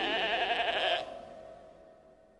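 A single sheep lets out one loud, wavering bleat lasting about a second, close by, then its echo fades away into quiet.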